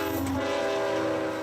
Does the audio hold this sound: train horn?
yes